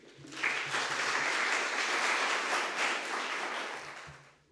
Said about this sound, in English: Now, ladies and gentlemen, let's give a warm round of applause to our President, Mr. Kevin Pater